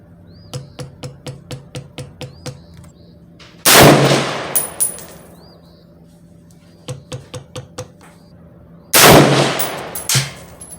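An LFA LR precision rifle fires two loud, sharp shots several seconds apart at a 100-yard range. Each shot booms and decays quickly, and runs of light mechanical clicks fill the gaps between them.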